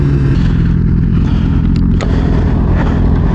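Sport motorcycle, a BMW S1000RR or Suzuki GSX-R1000R, at full throttle, giving a loud, close, continuous engine roar with a strong low rumble and a brief dip near the middle.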